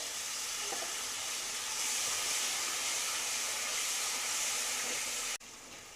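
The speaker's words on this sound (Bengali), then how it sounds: "একটু জল দিয়ে দিচ্ছি যাতে মশলাটা পুড়ে না যায়।" Water poured into frying ginger-garlic spice paste for a Bengali aloo matar sets off a loud, steady sizzling hiss that holds for several seconds, then cuts off abruptly near the end.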